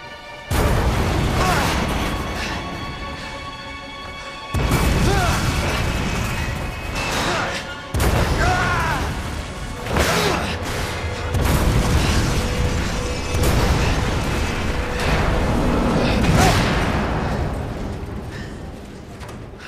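Repeated heavy booms and bursts from explosions in Resident Evil 2, loud and dense with rumbling debris and chaotic game sounds in several waves.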